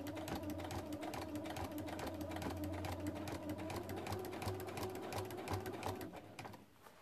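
A sewing machine quilting around appliqué circles runs steadily with a fast, even needle rhythm, close and alone, then slows and stops near the end.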